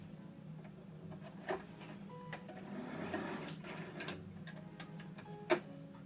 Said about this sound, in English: so we've sewed the sleeves together, and now we've attached it